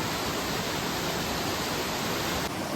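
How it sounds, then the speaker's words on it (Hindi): The Choie waterfall in the Trithan Valley of Kullu, Himachal Pradesh, pours down from steep mountains. It makes a dense, constant roaring rush of water, loud and unbroken, with no voices. "बट एक्चुअल वाटरफॉल ये है जो ऊपर ऐसे पहाड़ों से आ रहा है"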